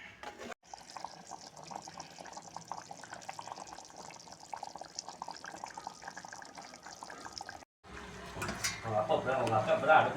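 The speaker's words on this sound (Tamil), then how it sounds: "இப்போ நாங்கள் தண்ணி ஊற்றி கறியை கொஞ்சம் வேக வைக்கிறோம்" Water poured into a pot of curry with meat set to simmer on the stove, a running, splashing pour under a steady liquid wash, briefly cutting out before a louder burst of bubbling and clatter near the end.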